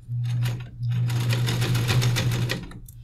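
A sewing machine stitches a straight seam along the pleated edge of a fabric face mask, its steady motor hum and needle rattle running close and loud in two bursts separated by a short pause.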